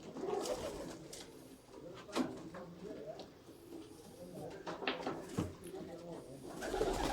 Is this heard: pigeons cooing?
yes